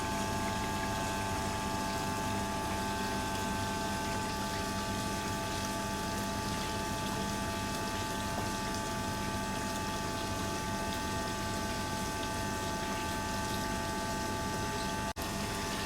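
Water runs steadily into the drain tank of a lab apparatus for Pitot static tube testing, a continuous broadband rush and hum of flowing liquid from a pump, loud and unbroken throughout with no talk.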